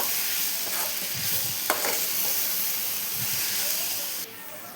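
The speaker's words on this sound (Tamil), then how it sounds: "உப்பு சேர்த்து நம்ம வதக்கினா தக்காளி வந்து சீக்கிரமாக வெந்துடும்." Tomatoes with salt sizzle and hiss steadily in a hot pan while a spoon stirs them, with a couple of soft scraping strokes over the continuous frying sound, close and fairly loud.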